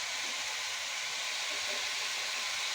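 Bean seed bhaji frying in a pan on a home stove, a steady, even sizzle and hiss throughout with no break.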